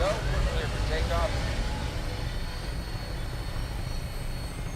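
A broad steady engine roar of an aircraft taking off in the video game Fallout 4, loud and continuous, with a voice talking over it at the start.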